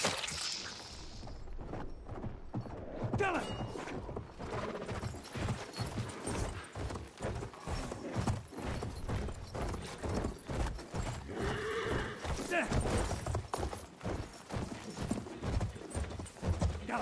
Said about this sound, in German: Lauf doch, du dumpfes Pferd